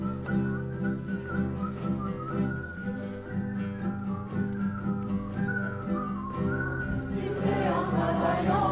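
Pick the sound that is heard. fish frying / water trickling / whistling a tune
whistling a tune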